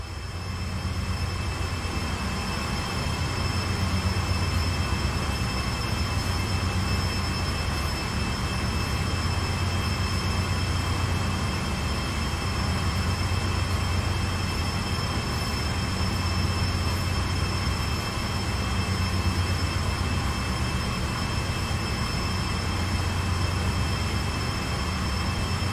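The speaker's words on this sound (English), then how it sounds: "You are currently riding an AC4400 CW locomotive." Steady GE AC4400CW diesel locomotive engine drone in Train Sim World 2, with a constant rumble and high whining tones, continuous and unchanging throughout, no voices.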